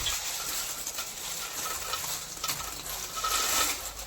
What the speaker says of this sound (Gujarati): હવે આપણે મિક્સ કરી દઈશું